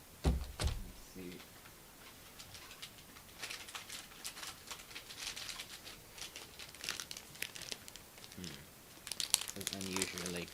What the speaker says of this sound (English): It's unusually crinkly.